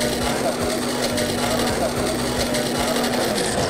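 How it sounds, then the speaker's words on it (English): An angle grinder runs steadily with a sound-insulating jacket fitted over it, giving a continuous, fairly even mechanical whir with muted grating, close and unbroken throughout. "once it's on, the grinder makes a lot less noise and it's a lot less unpleasant"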